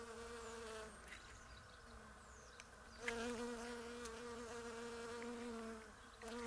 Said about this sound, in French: elles sont nombreuses les abeilles